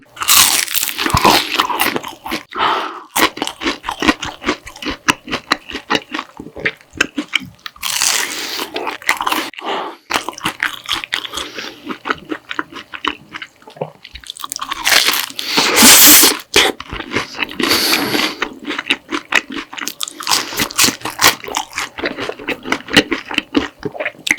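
Crunchy bites into red bean fish-shaped bread (bungeoppang), a winter street snack, with repeated close crisp crunches and chewing in bursts across the stretch, loud and near with no talk.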